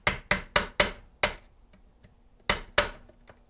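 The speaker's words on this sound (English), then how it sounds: "we're going to take a little hammer and we're going to knock the" Small hammer tapping down the lock tab on the switch of a Homelite XL-113 chainsaw: five quick sharp metallic knocks, a pause, then a few more, close and alone.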